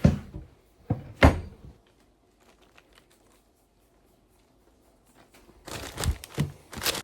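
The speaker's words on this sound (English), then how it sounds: "Clean tea towel out the drawer." A kitchen drawer is opened to take out a clean tea towel, with a few sharp wooden knocks and rattles, a quiet stretch of light clicks, then more clattering at the end.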